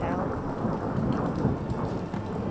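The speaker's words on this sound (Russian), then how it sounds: "Все равно дождь идет." Rain falls steadily with rolling thunder rumbling through it in the fantasy video game Skyrim, a dense, continuous storm ambience without a break.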